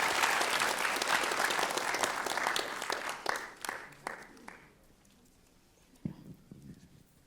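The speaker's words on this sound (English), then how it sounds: "another round of applause" Church congregation clapping loudly at first, then the applause thins into scattered claps and dies away into near silence, with a couple of soft knocks near the end.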